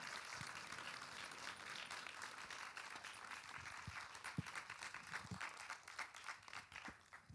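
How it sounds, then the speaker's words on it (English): Quiet, somewhat distant applause from a cinema audience for a filmmaker after a screening, a soft, continuous patter of clapping with a few louder individual claps and thumps scattered through it. "another round of applause for Henri and his amazing film"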